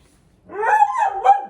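A dog barks and whimpers in a drawn-out, vocal yowl lasting about a second, close and fairly loud, starting after a short silence.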